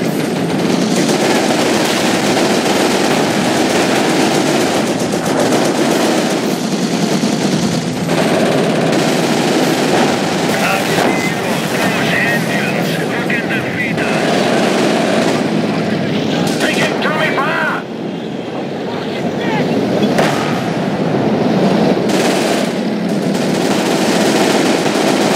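Dense, sustained battlefield gunfire from the Company of Heroes Blitzkrieg mod, with rapid machine-gun bursts and heavier artillery-like blasts layered continuously at high volume, under shouted voices.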